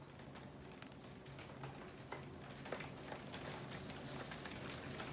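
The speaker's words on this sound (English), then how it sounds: "The rain is really coming down." Heavy rain pours steadily outdoors with scattered louder drop impacts, a dense hiss holding at a constant level throughout with no voices.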